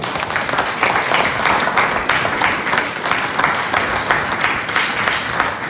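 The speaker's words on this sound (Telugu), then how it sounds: "ఒక్కసారి బిగినే క్లాప్స్ అండి." A large audience at a company event applauds senior coaches, loud, dense clapping that holds steady for several seconds.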